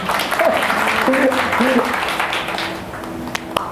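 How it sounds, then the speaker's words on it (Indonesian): A church congregation at a Sunday service bursts into applause, loud and dense at first and then tapering off, with voices speaking and calling out over the clapping. "Berikan tepuk tangan"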